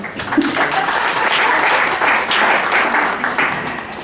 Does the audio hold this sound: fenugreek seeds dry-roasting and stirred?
no